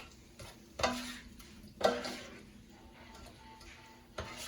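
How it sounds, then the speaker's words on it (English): Shrimp, sesame seeds, oil, soy sauce and chopped ginger are stirred in a pan, a quiet continuous sizzle broken by a few louder scraping strokes of the utensil against the pan. "I'm going to start to stir this around"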